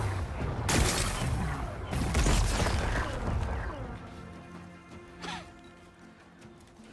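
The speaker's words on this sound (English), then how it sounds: "Gotta blast away some rocks so I can expose the power cell." Rocks are blasted apart in a forest level of a video game, with loud crashing bursts and rumbling debris in the first few seconds, then a quieter settling tail with a brief late burst.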